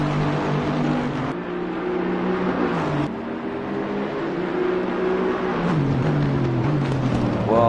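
A racing car engine in Assetto Corsa Competizione at Oulton Park drones loudly and continuously, pitch dipping and climbing through gear changes and corners as the car accelerates, with no talking over it.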